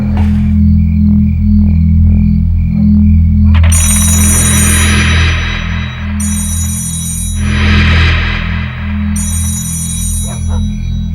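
A landline telephone rings in three repeated electronic bursts over a steady loud hum, the rings evenly spaced and bright.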